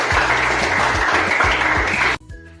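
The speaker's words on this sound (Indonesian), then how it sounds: "Mari kita berikan tepuk tangan untuk kelompok 3." A school class applauds a student group with a short burst of brisk, dense clapping over a low rhythmic background, cutting off abruptly near the end.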